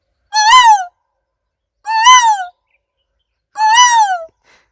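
A man mimics an Asian koel with his voice, giving three loud, clear rising-and-falling whistled calls spaced evenly about one and a half seconds apart, close and alone against silence.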